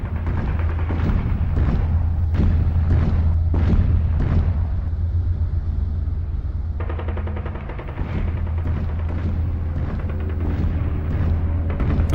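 Repeated loud blasts of heavy Nationalist cannon fire at the siege of the Alcázar of Toledo in the Spanish Civil War boom one after another over a constant low drone, with no talking.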